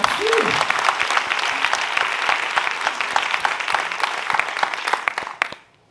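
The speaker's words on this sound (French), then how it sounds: "Bon, on peut l'applaudir." Audience at a forum applauding a participant, a steady run of clapping with a brief voice near the start, then cutting off abruptly at the end.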